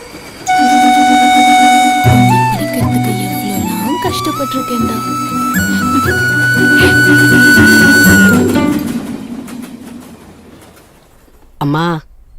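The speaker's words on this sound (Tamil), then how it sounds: "கிராசிங்காக 2 நிமிஷம் தான் சாமி ட்ரெயின் நிற்கும்." A train passes close by at a railway crossing in a Tamil film scene. Its horn blows long and loud over the heavy rumble and clatter of the cars, and the noise fades away as the train moves off.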